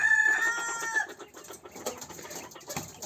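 Small Texas broiler quails cluck and chirp in a mini quail farm, a busy overlapping chatter of short calls close by, with a thin whine at the start.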